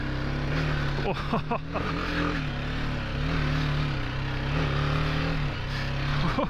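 A BMW G 310 GS single-cylinder motorcycle rides a slow figure of 8, its engine droning steadily with a few brief throttle blips early on, close and moderately loud.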